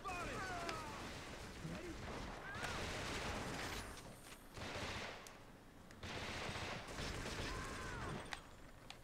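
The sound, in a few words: gunfire in the video game Shellshock: Nam '67 on PS2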